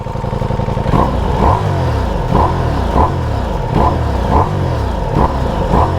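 A 2024 Ducati Diavel V4 motorcycle engine, warmed up, revs in a repeating pattern of about seven quick blips with swooping pitch falls between them, loud and close with no talking.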